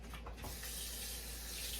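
Cold tap water running steadily into a large kitchen bowl, a constant hiss and splash with a few small clinks at the start, faint and close, no talk.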